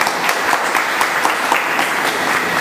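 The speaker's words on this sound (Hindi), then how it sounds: "एक बार बहुत जोरदार ताली।" Sustained applause from an audience at a ceremony in Kolkata honouring a guest who is presented with a book; dense, steady clapping without break, fairly loud and near, with no talking over it.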